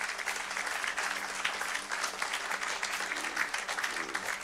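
A church congregation applauds steadily throughout, a dense, even roar of many hands clapping together, with a voice faintly audible beneath.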